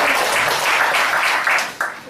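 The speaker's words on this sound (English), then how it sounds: "More applause for the product," Audience applause fills a product demonstration seminar, a dense steady wash of many hands clapping that swells briefly near the end before tapering off.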